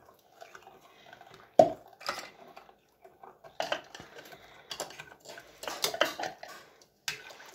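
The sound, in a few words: stirring lemonade ingredients in a bowl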